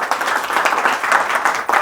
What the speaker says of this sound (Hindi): जोरदार ताली प्रभु जी के लिए।